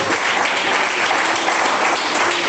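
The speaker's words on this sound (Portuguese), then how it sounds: "Palmas, se glorifica a Deus." A church congregation claps together in praise, dense and loud continuous applause filling the space evenly throughout with no pauses.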